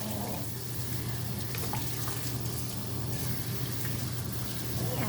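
Tap water runs in a steady rushing stream while a cockapoo puppy is bathed, a loud continuous splash and hiss filling the whole stretch without pause.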